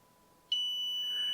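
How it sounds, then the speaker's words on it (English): A sharp continuous electronic beep from a multimeter continuity tester starts abruptly and holds steady, a single high-pitched tone close by with no talking. "So it beeps, means there is a connection."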